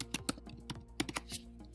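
Fingers tap a computer keyboard at close range, producing a quick, irregular run of crisp keystroke clicks.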